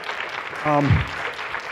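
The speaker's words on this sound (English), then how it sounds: "Give him a round of applause." A crowd claps in a brief burst of applause while a voice carries over it.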